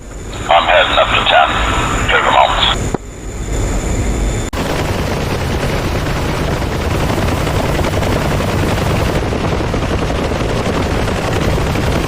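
An aircraft cannon fires a sustained, loud rattling burst of about two and a half seconds during a firing test in the DCS World flight simulator, followed by a steady roar of jet engine and wind noise.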